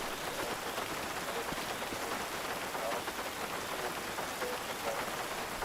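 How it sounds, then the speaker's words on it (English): Rain patters steadily on a vehicle in GTA Online during a Senora National Park ranger patrol, a dense even hiss of drops that holds at a moderate level with no voices. "you can even hear the rain like hitting the vehicle."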